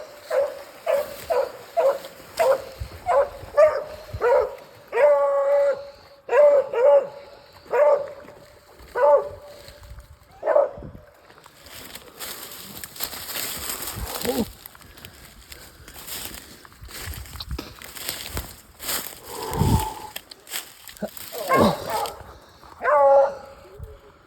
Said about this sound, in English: my two beagles got him bayed right now